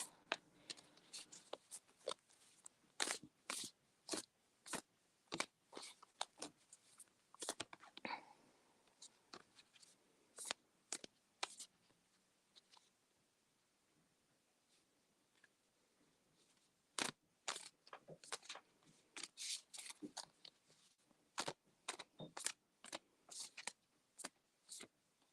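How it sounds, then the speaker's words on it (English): Oracle cards are shuffled by hand in quick bursts of soft riffling taps and slaps, close and quiet, with short pauses between runs and faint whispering and rustling around them. "I shuffle till a card pops out that wants to be read instead of choosing one myself"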